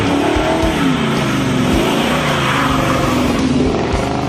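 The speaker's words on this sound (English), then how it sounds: "The X-pipe in the middle and the MagnaFlow muffler design sound aggressive without resonating like crazy" A 1969 Chevelle SS with a 496 V8 roars steadily as it accelerates through a stainless dual exhaust with X-pipe and MagnaFlow mufflers, its deep note rising in pitch, loud and close with a throaty rumble throughout.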